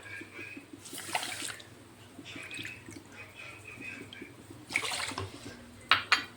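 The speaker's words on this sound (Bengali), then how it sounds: "1 কাপ চিনি দিয়েছি, তার মধ্যে আমি 2 কাপ জল দিয়ে দেব" Water is poured into a pan of sugar to start caramel, coming in a few short faint splashing bursts separated by quiet moments, with a small trickle at the end.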